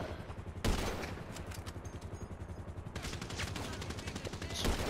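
Gunfire in GTA 5 director mode, a sharp opening shot followed by rapid, steady automatic bursts that rattle on throughout at close range, with another loud shot at the end.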